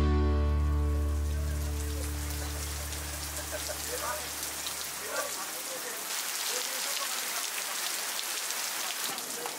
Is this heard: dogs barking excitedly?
no